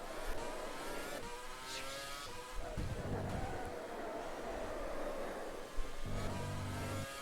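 A 2013 Formula 1 car engine in the rFactor 2 racing sim screams steadily through corners, its pitch rising and dipping with throttle and gear changes, loud and continuous.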